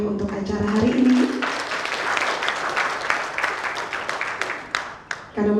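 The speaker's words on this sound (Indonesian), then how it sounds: "kita berikan aplaus dulu yang meriah untuk acara hari ini" An indoor audience claps warmly at a provincial economic report dissemination event in NTT, Indonesia. The applause starts right after a brief spoken line, holds steady and dense for several seconds, then thins out into scattered claps.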